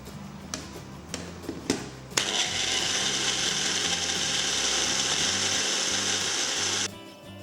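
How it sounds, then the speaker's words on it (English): A blender grinding chili powder and spices into a paste starts after a few clicks and knocks, then runs as a steady loud whir for several seconds before cutting off near the end. "Blend these together into a paste."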